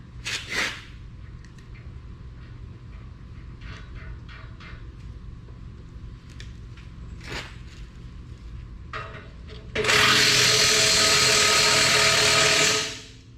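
An impact wrench tightens a nut on a carbide cutting edge of a Cat 140M3 motor grader, a loud sustained burst of about three seconds near the end after some quiet clinks and handling of parts.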